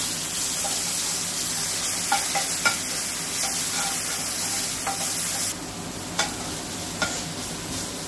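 Steady sizzling of onion and ginger-garlic paste sautéing in a pan, with occasional scraping taps of a spoon stirring, close and continuous.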